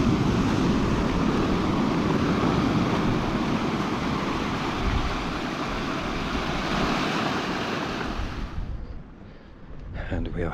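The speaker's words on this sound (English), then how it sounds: "Some lovely waves here." Sea waves at Freshwater Bay, Ilfracombe, at spring tide, a loud continuous roar of surf washing in, with wind buffeting the microphone; the rush eases and drops away near the end.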